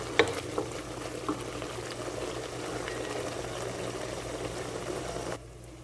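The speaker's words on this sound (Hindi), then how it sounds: "अब इसमें हम अदरक, लहसुन और टमाटर का पेस्ट डाल देंगे।" A pan of ginger, garlic and tomato paste frying for a daal mash recipe gives off a soft, steady sizzle with a few small pops, then cuts out abruptly near the end.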